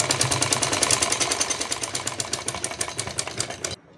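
Sewing machine stitching a lehenga for a goddess idol's dress, running in a steady rapid mechanical patter that stays loud and continuous before cutting off abruptly near the end.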